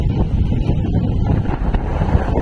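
Strong wind at sea with high waves, heard from up high on a boat as loud, steady buffeting roar against the microphone, without talk.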